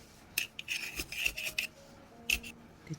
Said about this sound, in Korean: 이런 데로 이제 흙이 들어가라고 지금 제가 이렇게 다져주는 거예요